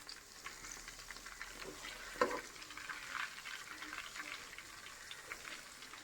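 Chicken pieces frying in a pan at home, a soft steady sizzle with faint stirring scrapes and one brief clatter, no talking.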